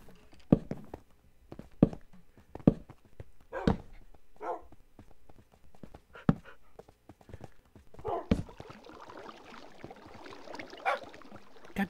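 Dogs barking in Minecraft: a string of short, sharp barks repeating at uneven intervals, close and fairly loud, followed by a stretch of busier, noisier game sound near the end.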